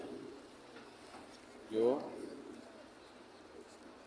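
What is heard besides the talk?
pigeons cooing near a mosque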